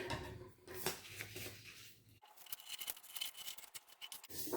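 Scissors cut out a paper origami surgical mask up close, making quiet irregular snips and rustling paper scrapes with brief pauses, and no one speaks.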